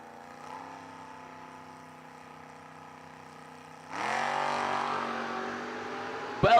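A Camaro and a Mustang at a footbrake drag race, engines idling low and steady before both cars launch hard near the four-second mark into a loud, rising roar, with a sharp bang right at the end.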